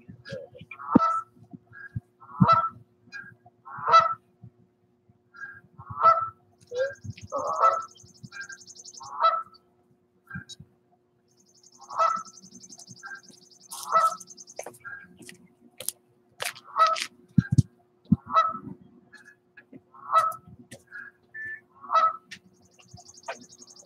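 Birds, likely geese, call with repeated honking notes in irregular bursts, along with a higher-pitched call now and then. Faint talk and scattered knocks sit in the background.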